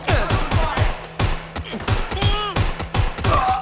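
Rapid bursts of gunfire crack close by in quick, irregular volleys, with a voice briefly breaking in, in the video game Watch Dogs: Legion.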